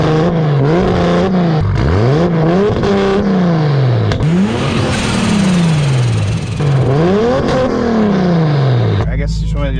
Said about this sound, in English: prepare yourselves for some RB single turbo ASMR